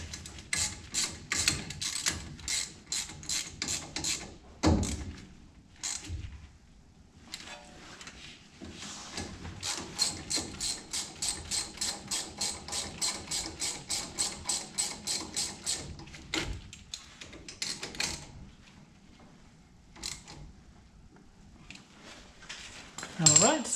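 A ratchet tightening a bolt on the front brakes of a 2WD Ford F-150 makes long runs of fast, even clicking, close and fairly loud, broken by short pauses and a few knocks.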